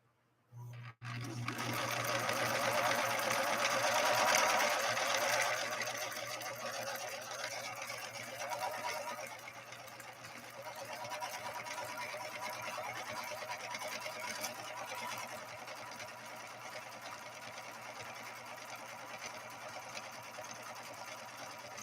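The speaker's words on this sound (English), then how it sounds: "We're going to try to lay down a 3-point zigzag" A rescued Viking Husqvarna 3230 sewing machine runs a continuous 3-point zigzag stitch, a close steady motor whir with a rhythmic needle chatter that softens slightly partway through.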